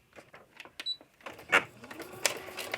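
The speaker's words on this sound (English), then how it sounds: "I'm over at my sewing machine and I'm going to sew a window grid" A sewing machine stitches a window grid on a journal page, with short, uneven bursts of clicking and whirring and sharp mechanical ticks between pauses, close and fairly quiet, no voices.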